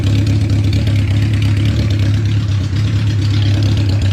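A 1972 Honda CB500 Four motorcycle engine idles steadily, a loud, even low rumble with a fast regular pulse holding constant throughout, close by and with no talking over it.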